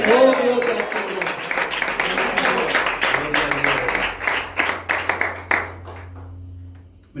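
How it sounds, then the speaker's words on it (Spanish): Enthusiastic applause from a church congregation at a Spanish church service, dense clapping fading into scattered claps and dying away, with voices cheering over it early on. "Me lo voy a creer al final de tanto aplauso"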